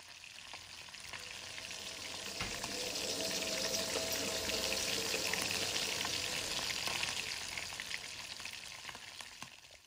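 Meat and masala frying in a pan as a radio-drama effect, a steady loud sizzle that swells and fades gently across the stretch, with faint clinks and no talk.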